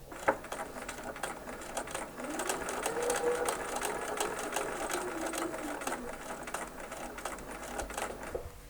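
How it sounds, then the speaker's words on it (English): A sewing machine sews a short stitch length, a steady, fairly close rapid mechanical patter that holds throughout with slight swells in intensity. "pull it out slowly while you stitch with smaller stitches"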